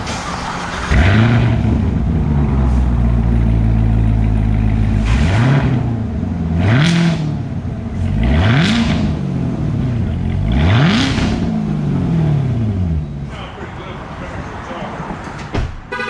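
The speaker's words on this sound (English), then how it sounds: "It has an exhaust, so you can hear it." A loud Lamborghini engine starts and revs repeatedly through the exhaust, several sharp rising blips with a deep rumble, then settles to a throaty idle.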